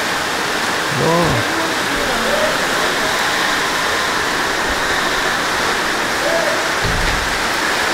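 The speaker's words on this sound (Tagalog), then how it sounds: "Ang lakas ng ulan." Heavy rain pours steadily in a loud, dense wash that fills everything, with brief voices surfacing faintly underneath.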